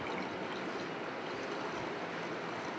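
Warm custard milk pours from one container into another, a soft continuous trickling stream, fairly quiet and steady throughout.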